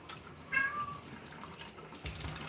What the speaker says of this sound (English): Yes, I hear you meowing.